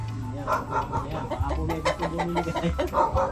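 Several Black Australorp chickens cluck close by in quick, uneven bursts, with a busy background murmur beneath them.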